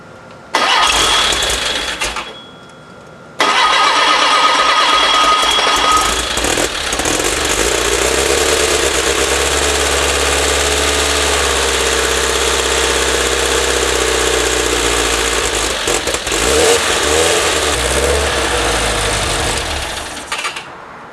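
Meyers Manx dune buggy engine cranks over and fires after a short pause, then runs loud and steady with revving, dominating the whole stretch with no talk.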